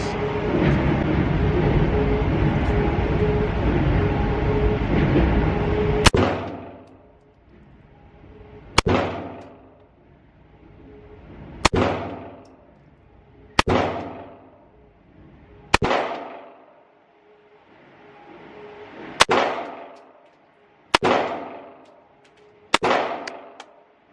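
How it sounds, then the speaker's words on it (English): SIG P365 pistol firing Blazer Brass ammunition at a target about 3 yards away: eight sharp, loud shots spaced a few seconds apart, each with a decaying echo, after a stretch of steady background noise. "We'll go ahead and take the first couple of shots."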